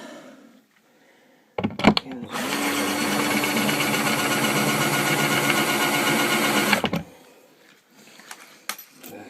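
A drill bores into the lock of an arcade fruit machine, running as one loud, steady, high-pitched whine for about five seconds, with brief clicks and knocks before and after.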